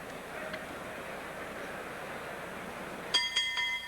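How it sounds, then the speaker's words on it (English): Round-ending bell at a 1980 professional boxing match between Alexis Arguello and Jose Luis Ramirez, a few quick metallic rings cutting in near the end over steady arena crowd noise. "There's the bell."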